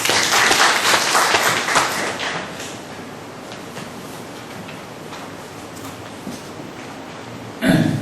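Applause for a speaker at a Korean church law society seminar, crowd clapping strongly at first and then thinning to scattered, quieter claps, with a brief louder burst near the end.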